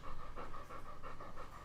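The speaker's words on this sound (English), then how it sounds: "This is our dog, Neo." A dog pants rapidly and steadily up close indoors in a bedroom, a rhythmic run of quick breathy puffs with no voices.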